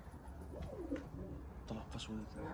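Pigeons coo softly at a loft where birds are kept, a few low, rolling coos close by under quiet background noise, with people talking intermittently.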